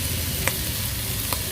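Vegetables sautéing in a pan with ginger garlic paste and chili paste for street-style prawn noodles, a steady loud sizzle throughout with a couple of faint clicks of stirring.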